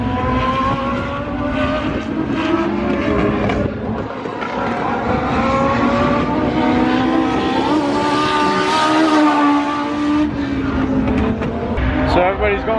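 Legend race cars lap a speedway oval during practice, several engines droning and rising in pitch together in a continuous loud roar, heard from the spotter stand above the track.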